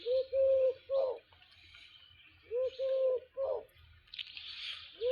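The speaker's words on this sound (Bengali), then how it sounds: "এই পাখিগুলো কিন্তু একদম ভয় পায় না আমাকে।" Pet pigeons cooing close by, several soft, hollow, rolling coos in two clusters separated by a pause, with faint rustling in between.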